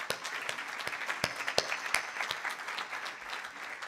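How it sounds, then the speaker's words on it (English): Audience at a Guru Purnima gathering in London applauds the youth speakers: a dense bed of clapping punctuated by sharp, distinct individual claps, fairly close and sustained for several seconds. "let's have a beautiful round of applause for all of them."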